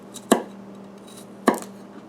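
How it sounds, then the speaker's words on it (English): A kitchen knife slices and minces garlic cloves on a cutting board, two sharp, close chopping knocks about a second apart over quiet background hum. "we can slice in like this. Get nice minced garlic"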